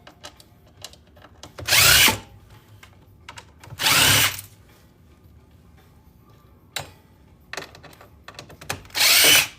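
Power drill backing screws out of a desktop PC case during scrapping, four separate loud whirring bursts of about a second each, with quieter clicks and handling noises in between.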